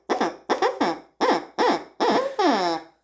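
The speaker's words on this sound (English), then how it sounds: "Got the owl locator call because it's just owl locator call." A Primos owl locator call is blown in a series of six hooting notes, close and loud, with short gaps and the last note drawn out longer.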